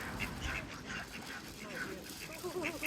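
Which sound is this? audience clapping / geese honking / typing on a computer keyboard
geese honking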